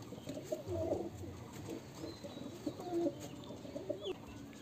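Pet pigeons kept in cages coo repeatedly in soft, low, rolling calls, moderately near, over a light background hiss; no one speaks.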